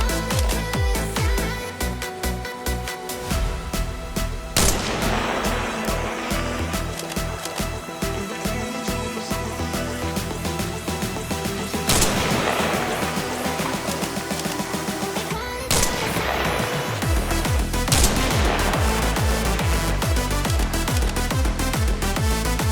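Sniper rifle shots fired at NPC targets about 400 meters away in the video game Arma Reforger, with a steady left-to-right wind: a few sharp reports spaced several seconds apart, heard over a dense, continuous music or ambience bed.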